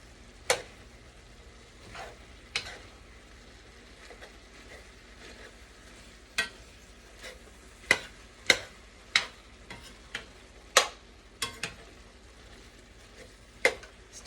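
Hamburger and sausage fry in a pan with a soft, steady sizzle, punctuated by scattered sharp clicks and taps of a utensil against the pan.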